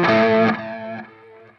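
Distorted electric guitar playing a fast arpeggio riff in sixteenth notes, loud and sustained at first, then the notes thin out and ring more quietly toward the end.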